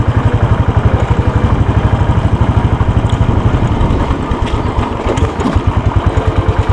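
A motorcycle engine thumps with a steady, fast pulsing rhythm on a high-altitude mountain road to Muktinath in Mustang, Nepal, loud and close throughout, with brief clatter and wind near the middle.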